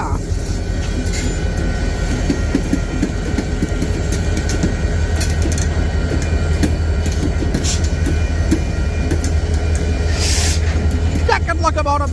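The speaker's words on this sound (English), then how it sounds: "I can still see the 3884 Union Pacific leading." A freight train led by Union Pacific locomotive 3884 rumbles past in St Paul, Minnesota, with a steady, loud, continuous roar, low engine drone and faint rhythmic wheel clatter throughout.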